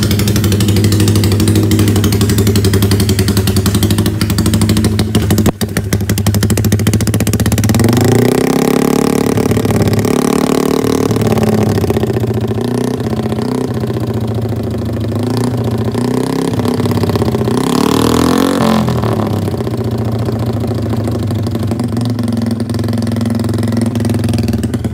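A Yamaha LC135 motorcycle with a standard rod and oil pump runs close up, idling with a steady mid-pitched throb, then rising and falling through several revs before settling back to idle.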